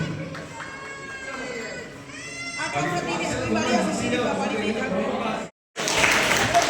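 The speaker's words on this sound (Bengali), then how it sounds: "জোরে হাততালি" Audience applause at a dance show prize distribution, loud sustained clapping from a crowd rising and spreading after a moment of speech and shouting, briefly cut off before resuming.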